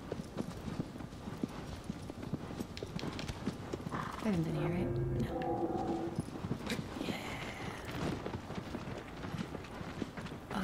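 Horse hooves clip-clopping steadily in Shadow of the Colossus, a continuous galloping rhythm underneath casual conversation between players, with a brief whinny midway.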